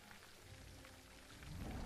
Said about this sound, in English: It's summer and it is still peeing down with rain.